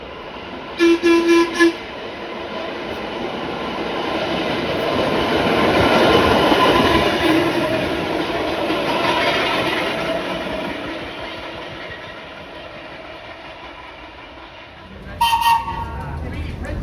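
A New York City subway nostalgia train rumbles past with a steady roar that swells and fades, with short horn toots near the beginning and the end.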